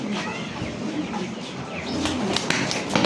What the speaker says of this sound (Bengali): তুরিবাজ কবুতর